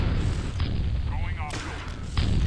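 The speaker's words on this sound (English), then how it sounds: "And PC Cola mortaring into the X lobby" Mortar shells bursting inside a base lobby in Starsiege: Tribes, deep booming thuds rolling under constant game noise and a commentator's voice.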